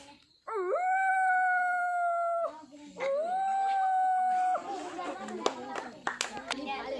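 A boy mimics a wolf with two long, rising and wavering howls, the second a little shorter, followed by scattered claps and noise.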